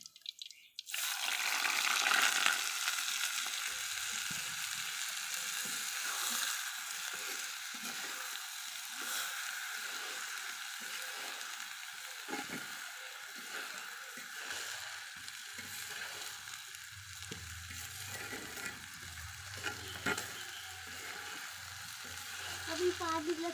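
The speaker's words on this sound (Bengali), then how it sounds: "একদম মচমচে করে ভেজে নেব বেরেস্তাটা" Sliced onions fry in hot oil until crisp for birista, giving a loud, steady sizzling hiss that runs unbroken for over twenty seconds, with a faint voice near the end.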